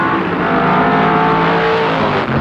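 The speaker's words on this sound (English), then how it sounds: "Punching past the pits at the end of the first lap in the big red Mustang." A big red Ford Mustang touring car roars past the pits on a slippery track during a 1973 Improved Production Touring Car race at Warwick Farm, its loud engine note filling the whole stretch without a break.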